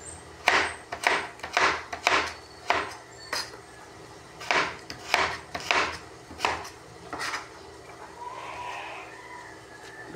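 A knife chops food on a cutting board while liver cooks, giving rhythmic bursts of sharp, close, woody chops with short pauses between runs, then fading into softer kitchen rustling.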